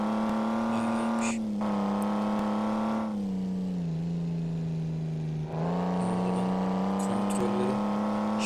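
Simulated engine of a Mercedes AMG C63 in the Truck Simulator Ultimate game: a steady, droning, strongly tonal hum that dips slightly in pitch twice as the revs ease, with faint clicks and no speech.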